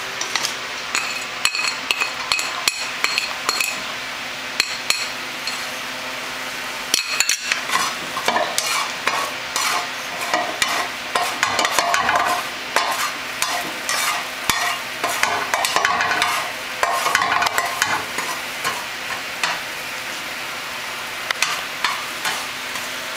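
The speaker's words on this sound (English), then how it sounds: "you will need to fry the garlic and onions first." Garlic and onions frying in a pan, with a steady sizzle broken by repeated stirring scrapes and clinks of a utensil against the pan, close and fairly loud, with no talking.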